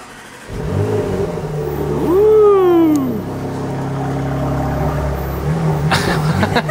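A Porsche 2.9-litre V6 engine cranks and fires, then revs sharply once with a rising and falling whine before settling into a steady, throbbing idle nearby.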